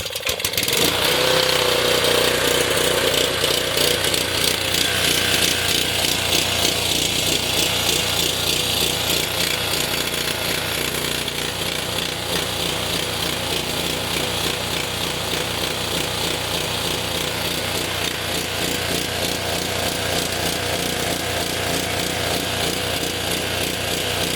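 A Honda HS520 snowblower engine runs on choke with a new OEM carburetor, its loud, steady mechanical chatter and rapid rattling pulse continuing unbroken from start to finish at close range.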